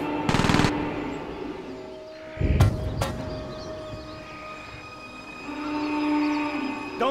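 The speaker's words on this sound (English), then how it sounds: "Sentries 4 and 5, opening fire." Automated sentry guns fire in Aliens vs Predator, with a short rapid burst near the start and a couple of sharp cracks later over a humming, mechanical background.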